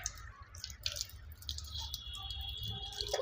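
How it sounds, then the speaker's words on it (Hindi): Water drawn up into the nose by hand during wudu ablution: quiet splashing and dripping, close and soft, with a slightly brighter trickle toward the end. "अब नाक में पानी डालेंगे इस तरह से"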